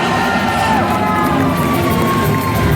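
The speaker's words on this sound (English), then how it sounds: "Audience, let's cheer him on!" A big crowd at the Fear Factor Live show at Universal Studios cheers and shouts steadily and loudly, a continuous roar of voices with whoops and children's yells mixed in.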